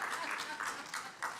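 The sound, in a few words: audience applause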